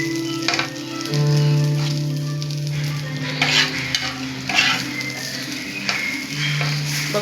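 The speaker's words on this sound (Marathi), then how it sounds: "आपण यात पाव गरम करून घेऊया." Pav bread warming in butter in a pan for pav bhaji, with steady sizzling and frying under repeated scraping and stirring strokes of a utensil against the pan, close and fairly loud.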